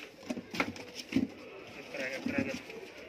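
Teddy pigeons cooing in a few short, soft low bursts at close range, with voices talking over and between the calls.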